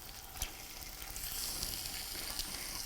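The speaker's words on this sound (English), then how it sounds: "Do you hear that sizzle? That's what you want to hear." Chicken pieces laid skin side up in a hot skillet give a steady, soft frying sizzle with light crackle, fairly quiet and close, with no talking.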